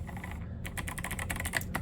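Quick, crisp keystrokes on an 8BitDo Retro Mechanical Keyboard, a close run of light clacks, quieter than a buckling spring board, typed alone at a steady pace.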